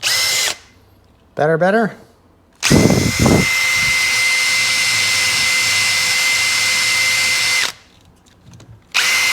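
A power drill fitted with a small wire brush scrubs the corroded battery terminals of a Seadoo 3D with a 787 engine, whining loud and steady for several seconds between short bursts, with a brief voice in the gaps.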